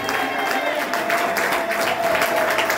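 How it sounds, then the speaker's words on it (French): Congregation clapping hands together in a church, a dense, steady wash of applause filling the whole moment, with voices and a sustained tone underneath. "Can you clap your hands to the Lord?"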